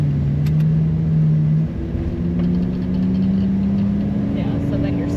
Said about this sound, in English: There's first gear. Let's try that.